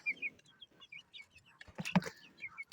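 Soft, high peeping chirps from young chicks repeat steadily, with a brief louder clatter in the middle; quiet and fairly close.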